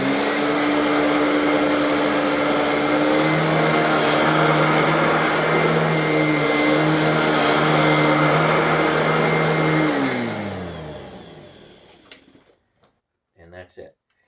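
A Royal Pro Series vacuum cleaner runs loud and steady over sandy carpet with a high motor whine, then powers down and winds away to near silence, followed by a few brief knocks.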